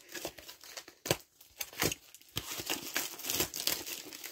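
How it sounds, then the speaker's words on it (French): Seven Deadly Sins pins being unwrapped from their packaging, a close, steady run of crinkling and tearing plastic with sharp rustles throughout and no talking. "je suis en train d'ouvrir les pins"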